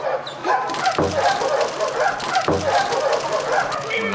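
A police dog at a training center in Karaj, Iran barks in a few sharp, loud bursts amid background noise and voices.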